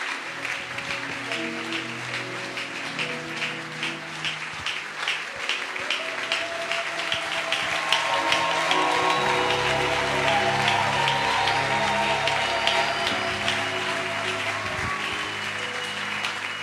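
Church congregation clapping and acclaiming the Lord during a French-language service, a sustained bed of applause with voices rising in sung or shouted praise over it, lasting throughout.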